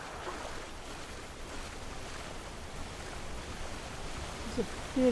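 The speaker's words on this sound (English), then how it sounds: "Oh, this is coming down from that big waterfall." A big waterfall in the video game Skyrim sends out a steady, dense rush of water that fills the whole stretch evenly, loud and continuous with no breaks.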